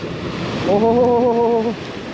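Large ocean waves wash against the shore during rock fishing, a continuous rushing surf with wind noise. Midway, a brief droning tone sits on top of it for about a second.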